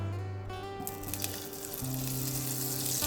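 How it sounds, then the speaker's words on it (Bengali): Butter melting into hot white oil in a pan for lemon rice, a soft steady sizzle with a faint hum underneath, no voices. "এবার সাদা তেলের উপর বাটারটা দিয়ে দেব।"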